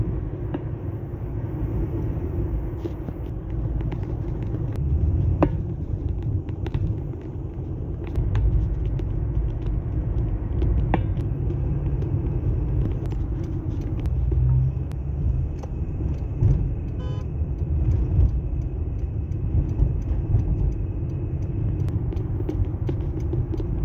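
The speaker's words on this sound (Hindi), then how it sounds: "कोई इधर से गाड़ी घुसा रहा है, कोई इधर से गाड़ी घुसा रहा है, इस वजह से ट्रैफिक जाम हुई है।" A congested road at a busy intersection on the route from Azizia to Hara, with a continuous low rumble of idling and creeping vehicles, steady and fairly loud, broken by occasional faint clicks and horn-like tones.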